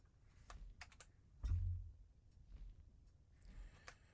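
Quiet typing on a computer keyboard, a few scattered clicks and taps with a soft thump in the middle, heard alone at low level.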